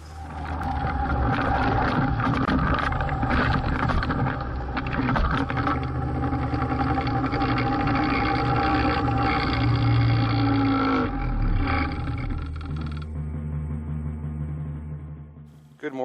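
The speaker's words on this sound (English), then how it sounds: "First time ever riding my snowmobile out to my winter camp" Snowmobile engine roaring steadily and close while riding out to a winter camp, with a voice speaking over the engine noise and the engine dropping off near the end.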